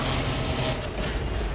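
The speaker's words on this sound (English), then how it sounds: "Tram arriving at flight deck station." A tram arriving at a station aboard a spaceship in the Dead Space video game, heard as a loud, continuous rumbling and clattering rail noise with a metallic edge, alone and without speech.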